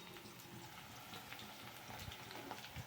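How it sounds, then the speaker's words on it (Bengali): Cubed potatoes fry in hot oil with cumin seed and bay leaf, giving a steady close sizzle with small stirring scrapes and crackles throughout. "এই আলুটাকেও ভালো করে ভেজে নেব।"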